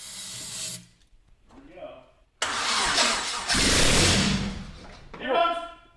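A Subaru with a swapped-in Honda K-series engine cranks and fires up for the first time, with a loud burst of revving after a brief pause, and voices are heard around it.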